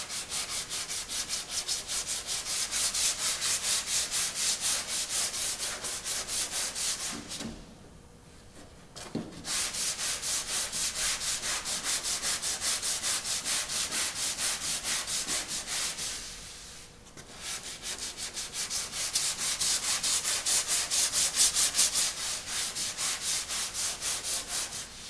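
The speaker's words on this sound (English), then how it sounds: "It's very important to keep your block flat in order to get a level surface." A sanding block worked by hand over body filler and paint on a car panel gives a continuous rasping back-and-forth scrub, close and steady, broken by two brief pauses.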